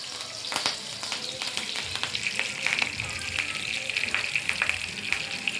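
Cumin seeds and curry leaves fry in hot oil for a tempering, a continuous bright crackling sizzle punctuated by sharp pops and spatters, close and steady.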